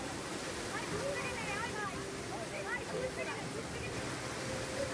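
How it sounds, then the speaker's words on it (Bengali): Bamni Falls waterfall in Purulia, a steady broadband rush of falling water close by, continuous and fairly loud, with voices talking faintly underneath. "এই দেখো নিচে জলটা পড়ছে"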